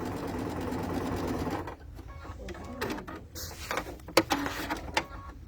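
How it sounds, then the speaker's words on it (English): A sewing machine runs a steady close hum as it stitches diagonal lines across a quilt, then stops and gives way to clicks, fabric handling and mechanical clatter. "I'm stitching across both of these diagonals"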